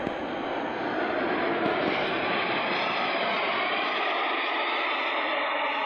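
A jet-engine aircraft in level flight gives a steady, loud broadband roar with a hissing upper edge, holding constant and uninterrupted throughout.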